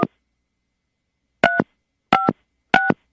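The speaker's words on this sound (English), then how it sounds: "we're going to dial now, see if he'll answer" A telephone is dialed for a call, with one tone at the start and three later paired keypad tones in a steady rhythm, clear and close against silence.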